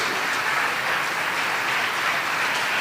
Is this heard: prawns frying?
no